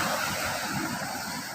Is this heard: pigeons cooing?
no